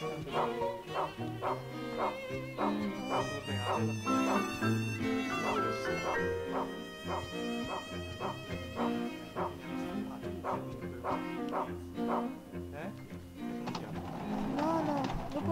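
A dog barks in the video game Rule of Rose, repeated rhythmic barks over layered game music that runs throughout, moderately loud and sustained.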